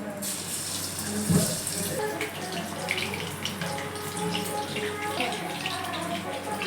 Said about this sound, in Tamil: எண்ணெய் காஞ்சிச்சு வாங்க சிக்கனை போடலாம்